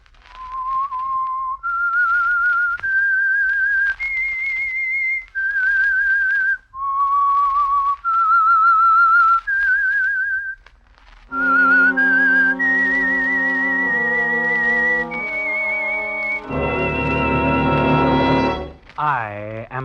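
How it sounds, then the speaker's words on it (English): A whistled theme tune for The Whistler radio show: a clear, loud melody of sustained notes, solo at first and then backed by an orchestra with a full final chord. "That whistle is your signal for the Signal Oil program"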